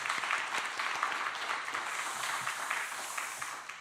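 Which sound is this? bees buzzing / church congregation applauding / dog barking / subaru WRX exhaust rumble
church congregation applauding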